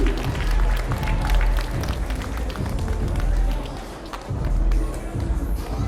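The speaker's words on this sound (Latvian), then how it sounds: "Aplausi, aplausi!" Crowd applause and cheering fill a youth league fight venue, a dense, steady roar of clapping with rhythmic stomping or pounding underneath, loud and continuous throughout.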